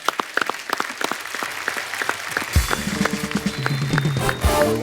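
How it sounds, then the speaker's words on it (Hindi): A studio audience on a comedy talk show breaks into applause: scattered claps at first, then a full, dense burst of clapping with some music joining near the end. "इस बात के लिए ताली होनी चाहिए"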